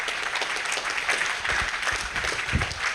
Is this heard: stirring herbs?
no